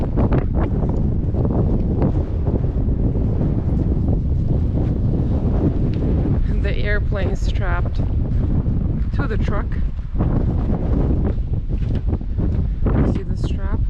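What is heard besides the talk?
strong wind gusts blowing outside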